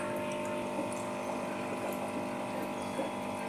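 An aquarium water pump in a fish tank hums steadily with bubbling, gurgling water over it, close and continuous, with no talking.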